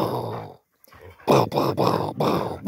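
A freshly groomed pet dog gives several close, throaty growls in short rhythmic bursts after a brief pause, loud and rough, with no speech over them.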